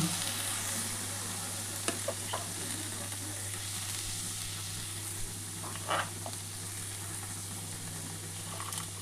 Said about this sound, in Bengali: প্রথমে কিন্তু আলুটা দিয়ে দিলাম। তার সাথে এই যে পেঁয়াজটা দিয়ে দিলাম।